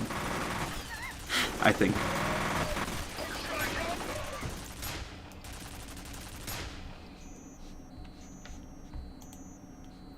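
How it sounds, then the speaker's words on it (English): Rapid mounted-turret gunfire in the shooter game FEAR, sustained bursts in the first half that thin out, with beeping interface tones later and a voice speaking briefly over it. "I'm shooting at people using the turret. I'm controlling the turret now."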